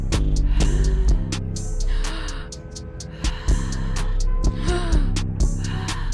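A voice imitates heavy breathing, with long drawn inhales and exhales repeating in slow rhythm, close and loud, over a low steady hum.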